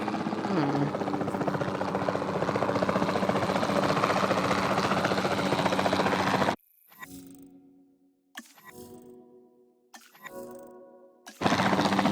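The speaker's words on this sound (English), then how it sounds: "Then the sensible thing is to take a capture team helicopter." A capture team helicopter flies in the video game Jurassic World Evolution 2, its rotor and engine roaring loud and steady for about six seconds before cutting abruptly into quieter, choppy game sounds and effects.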